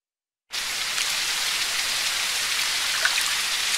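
Steady light rain in a game engine hisses evenly after a brief silence, a soft continuous patter with no voices.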